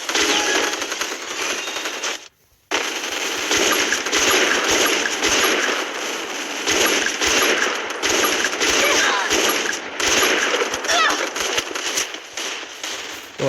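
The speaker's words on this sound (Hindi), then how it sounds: "मेरी मशीन गन से मार रहा है" Machine gun in a mobile shooter game rattles in dense, continuous bursts close up, with a brief pause early on before the rapid firing resumes and runs on steadily.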